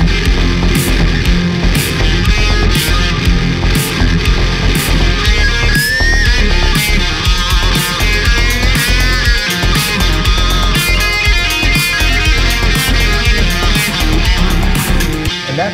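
Electric guitar through a Boss Blues Driver overdrive pedal, loud gritty lead lines with string bends over a driving band backing with steady cymbal hits, no talking.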